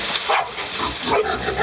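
Hunting dogs bark at a wild boar inside a cave, several rough overlapping barks and yelps in quick succession, loud and close with a reverberant, enclosed quality.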